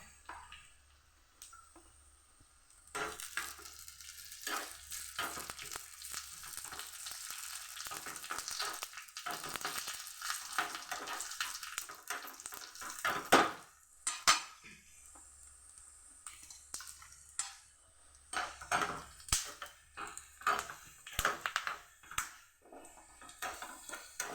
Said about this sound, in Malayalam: ഇനി ഉള്ളി ഇട്ടു. ഉള്ളി ഒന്ന് നല്ല ബ്രൗൺ കളറായി വരുന്നവരെ ഒന്ന് കാത്തിക്കാം. നമുക്ക് കായ് മുളക് ഇട്ട് കൊടുക്കാം.